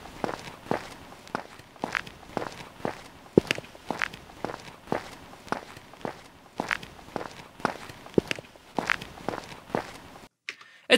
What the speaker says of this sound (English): So this is Sneakers on Concrete.